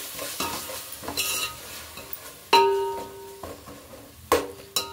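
Ginger garlic paste frying in a pan for plain biryani, a soft sizzle under repeated stirring scrapes and a few sharp metallic clanks of a spoon on the rim, close up.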